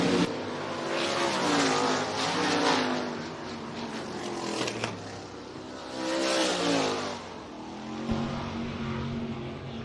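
Race car engines roar loudly through a speedway heat race at Rapid Speedway, pitch sweeping up and down as the cars pass close, swelling and fading in waves with no voices.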